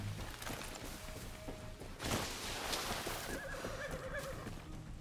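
A horse whinnies and neighs in Far Cry 6, a fairly faint whinny over soft hoof clatter and a brief whooshing rush, with no talking.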